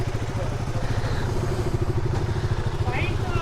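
A Royal Enfield Himalayan 450 motorcycle engine runs with a steady, throbbing low rumble close by, its rhythmic pulses continuous throughout with faint background clatter.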